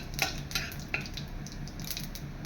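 Whole cumin seeds and bay leaves fry quietly in a pan with a soft, steady sizzle, broken by a few light scrapes of a stirring spoon.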